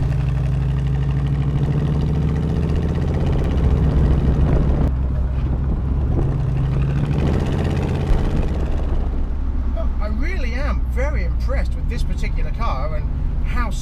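A 1980 Chevrolet Camaro V8 idles with a deep, steady low burble while rolling around a corner, loud and close, with someone talking over it.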